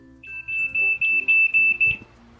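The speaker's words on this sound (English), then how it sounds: "the outdoor version will have the camera alarm, which it will sound a 3-second beeps when motion is detected" A Yi Outdoor security camera's motion-detection alarm beeps high-pitched in a rapid series of about six pulses, loud and close, with no talking.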